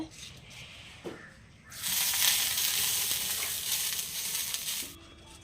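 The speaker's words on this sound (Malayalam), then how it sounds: "അപ്പോൾ നമ്മളെ കല്ല് ചൂടായിട്ടുണ്ട്" Loud sizzling bursts up as appam batter hits a hot stone griddle, a steady broad hiss that holds for a few seconds before fading, with faint clatter before it.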